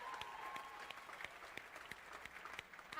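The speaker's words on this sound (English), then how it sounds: "Give them a cheer" An audience applauding and cheering at an EA Sports FIFA event, steady dense clapping from a large room crowd that carries on throughout.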